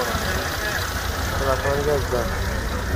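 Chevrolet Spark with an older engine idles steadily in a busy used-car market in Bukhara, its low continuous rumble running the whole time beneath nearby voices and chatter.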